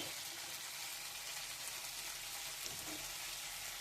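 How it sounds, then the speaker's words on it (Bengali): Tomato with ginger paste and ground spices frying in hot oil in a pan, a steady close sizzle with faint stirring scrapes and no talking. "তেলের মধ্যে টমেটোটা নাড়াচাড়া করলে টমেটোটা বেশ নরম হয়ে আসে"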